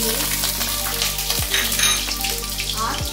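Dried red chillies and cumin seeds crackle and sizzle as they hit hot mustard oil for a dal tempering, a steady close frying hiss with a couple of sharp low knocks, no talking.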